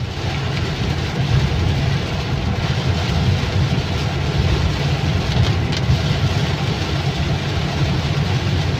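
Steady, dense heavy rain noise drums on a car as it drives a road toward Khao Yai in a windless rainstorm, with a constant low road and engine rumble underneath; no voices.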